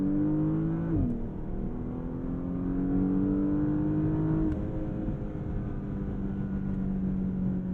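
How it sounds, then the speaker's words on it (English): A 2021 Porsche Panamera in Sport Plus accelerates hard, its engine and exhaust droning and climbing in pitch, with a sharp dip at each of two upshifts before the note rises again, heard from inside the car. "Now I'll hop back up to Sport Plus to really tune in on that exhaust noise."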